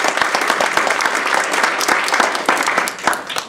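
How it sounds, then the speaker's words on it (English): An audience applauds at a Toastmasters division table topics contest, a lively close burst of many hands clapping with distinct individual claps audible, continuing steadily for a few seconds. "Give yourself a round of applause."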